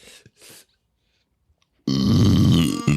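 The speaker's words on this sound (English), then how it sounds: "the bassy dulcet tones of your burp" A deep, bassy burp rumbles out close and loud for about a second, following a few faint breaths and murmurs in a quiet room.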